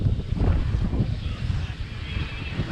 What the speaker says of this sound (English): What a great day of sailing it's been so far.